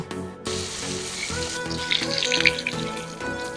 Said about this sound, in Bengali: মাছের এক পিঠ ভাজা হয়ে গেছে উল্টে পাল্টে আমি সুন্দর করে ভেজে নেব